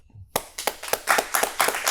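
Hands clapping in a studio during a sports talk show, a run of about eight sharp, close claps in a quick irregular rhythm after a brief silent start.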